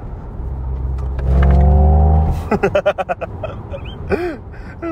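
An MG Cyberster electric sports car accelerates hard at full throttle, a loud rising whine and hum building inside the cabin, then giving way to a voice speaking close by.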